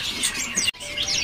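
A male cucak ranting songbird gives a few close, bright chirps and tweets, broken by a short pause midway.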